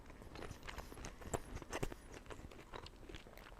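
Close, quiet crinkling and crunching as a pet chews on a plastic bag, irregular bites and rustles with no talking.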